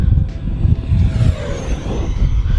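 Radio-controlled F-16 Thunderbirds model jet flying at full throttle in strong wind, a loud steady roar with a rising whine sweeping through it, heavy low rumble from wind buffeting, no voices.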